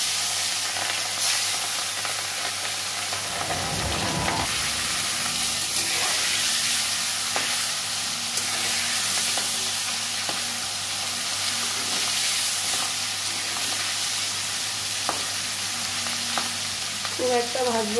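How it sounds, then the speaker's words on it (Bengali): Four pieces of kajli fish fry in a pan with a steady, dense sizzle, joined by stirring scrapes and occasional spatter throughout. "মাছগুলো আমি ভেজে নেব।"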